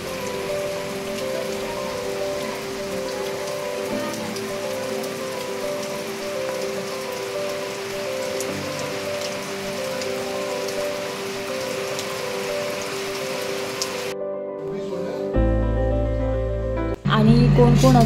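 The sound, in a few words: heavy rain falling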